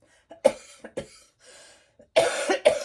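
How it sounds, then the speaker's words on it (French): A person coughs several times in short, sharp bursts separated by pauses, ending with a louder double cough close to the microphone. "tousse un petit peu"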